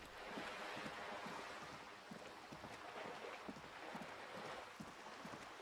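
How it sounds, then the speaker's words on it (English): Waves wash against something steadily at moderate distance in a Disco Elysium scene, a soft continuous surf with faint recurring lapping pulses and a low wind-like hiss throughout. "The waves are hitting something weird."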